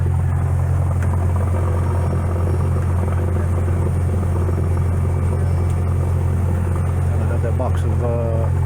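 Small aircraft engine roaring steadily at takeoff inside the cabin of a plane on a flyer airdrop flight, a loud constant low drone that fills the whole clip.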